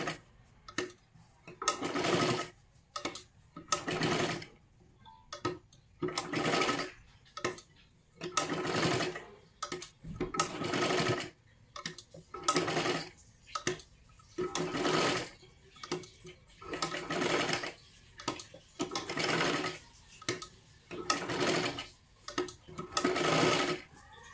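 A sewing machine stitches a katori blouse in repeated bursts of rapid whirring, each run lasting a second or two and separated by short pauses, close and steady with no talking.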